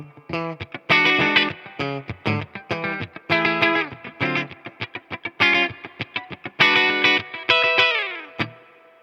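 A heavily distorted Eastwood Univox Hi-Flier electric guitar plays chunky riffs and sustained chords, loud and close, with short gaps between phrases and a final ringing bend.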